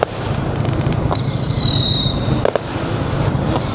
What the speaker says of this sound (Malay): Oi, ada yang makan mercun.